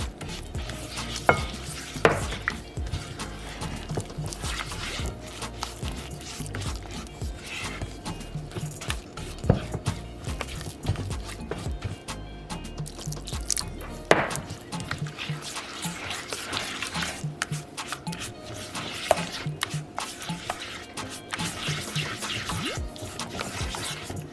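Bean batter for akara being stirred and whisked with room-temperature water in a bowl, giving continuous scraping, clinking and wet sloshing over about twenty seconds, close and fairly loud, with no talking.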